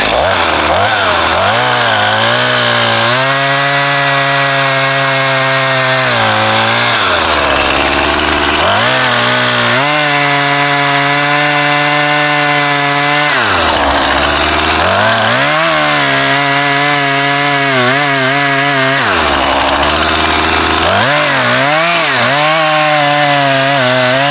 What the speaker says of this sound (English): Put the chainsaw perpendicular to that.